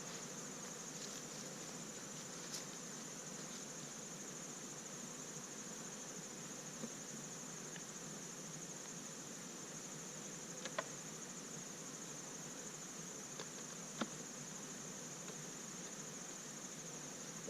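Honey bees swarm around an open hive during a routine inspection, producing a steady, continuous drone that stays even throughout with no talking.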